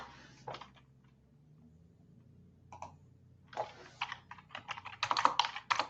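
Bursts of typing on a computer keyboard, a short flurry at the start, a pause, then denser rapid clicking that grows louder toward the end, close by and with no talk.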